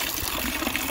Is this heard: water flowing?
yes